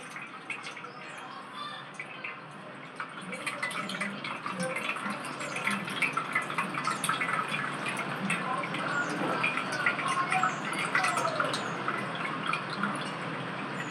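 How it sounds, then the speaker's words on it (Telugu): Tomato rasam being poured and strained through a hand, a soft continuous trickle and drip of liquid with faint splashes, steady and close. "ఈ పులుసుని అయితే మనం ఇలా చేతిలో పోసుకుంటూ వడగట్టుకోవాలి"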